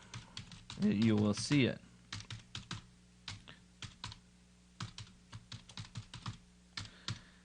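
A web address is typed on a computer keyboard in a steady run of crisp, close keystrokes. Short spoken words briefly overlap the start of the typing.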